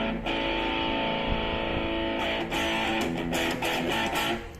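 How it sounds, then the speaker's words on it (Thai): A distorted electric guitar through a Boss ME-80 multi-effects unit plays a chunky rhythm part, sustained crunchy chords ringing out with a few rhythmic accents, no voices. "อย่างตัวเนี้ย ผมมีเสียงแตกริทึมเป็นแบบนี้ละนะครับ"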